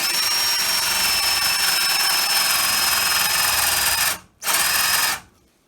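A power drill bores into wood with a speed bore bit, roughly four seconds of loud, steady high-pitched whine that cuts out briefly, spins again for under a second, then stops, no voices over it.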